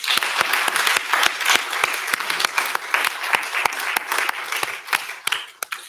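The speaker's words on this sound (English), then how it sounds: "let's give everyone a round of applause" Audience applause at a women-in-tech entrepreneurship event, a steady burst of many hands clapping close and loud for several seconds before tapering off at the end.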